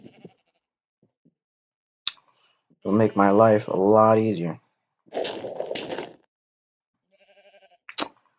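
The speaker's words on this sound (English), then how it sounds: "I gotta breed these sheep because" Sheep bleating in the Minecraft video game, two loud wavering bleats close together in the middle, with game clicks and someone speaking briefly at the end.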